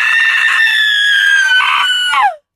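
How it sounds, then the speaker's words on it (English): A voice performing a classic damsel-in-distress woman's scream: one loud, sustained, shrill cry held for about two seconds, wavering slightly before breaking off and sliding down to silence. "the classic damsel in distress scream"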